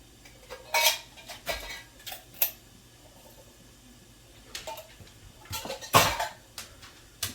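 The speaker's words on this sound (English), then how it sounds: "Give those a nice stir with the soup and milk" A spoon clinks and scrapes against a crockpot while green beans are stirred into soup and milk, giving irregular sharp metallic taps and short scraping strokes over a quiet background.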